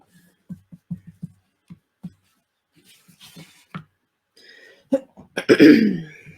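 Several short, soft coughs and throat clears spaced apart from a rough morning throat, followed by a louder, harsher cough near the end, close by.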